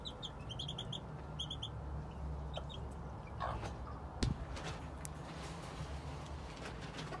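Game chickens, including a brooding hen, cluck softly with scattered chirps and a few quick high bird notes over a faint ambient hum, with one sharp knock near the end.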